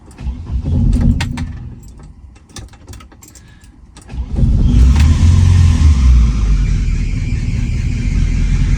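A 1977 BMW 320i cranks briefly and catches, then settles into a loud, steady idle close by, with some rattling and key jangling before the start.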